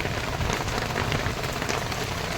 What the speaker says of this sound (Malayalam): നമ്മൾ ഇറങ്ങിയപ്പോൾ തന്നെ മഴ തുടങ്ങി, നല്ല മഴ തുടങ്ങി.